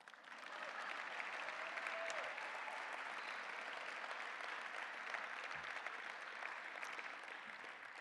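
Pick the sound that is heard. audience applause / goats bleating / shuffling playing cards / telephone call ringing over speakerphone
audience applause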